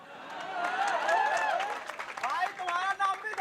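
Applause from a live audience for a performer on stage, a steady wash of clapping swelling over the first seconds and then thinning, with a voice speaking over it.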